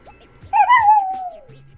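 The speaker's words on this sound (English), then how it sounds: "So let's hear what this dog has to say." A small dog gives a single drawn-out whimpering yip that slides downward in pitch, fairly close and clear, with quiet background before and after.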